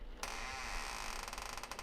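An old door creaks as it is nudged open on a stormy night, a sustained, close creak with a faint ratcheting texture that starts abruptly and carries on alone.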